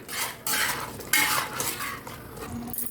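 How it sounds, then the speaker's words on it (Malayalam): Chicken curry stirred in a pan, giving steady close scraping and clinking from a spoon against metal over a low sizzle, with no voices. "ഇളക്കി യോജിപ്പിച്ച് വേവിച്ചെടുക്കാം ഇടയ്ക്കിടയ്ക്ക് നമ്മൾ ഇളക്കി കൊടുത്തുകൊണ്ടിരിക്കണം"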